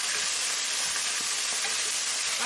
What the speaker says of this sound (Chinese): 炒出葱油以后，再放葱末还有蒜末，